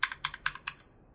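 Computer keyboard keys pressed in a few quick bursts of clicky taps, close and fairly quiet, then trailing off into silence.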